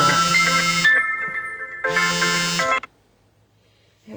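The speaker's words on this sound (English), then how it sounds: "So now my phone's ringing." A mobile phone ringtone plays loud and close in two long, bright bursts separated by a short gap, then cuts off into near silence.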